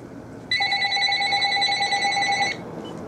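Telephone ringing indoors: a single sustained electronic ring lasting about two seconds, loud and close over a low room hum.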